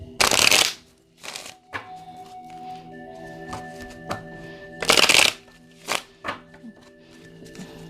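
Tarot cards being shuffled by hand, loud close riffles and bursts of card noise separated by softer taps and handling sounds, with no voice.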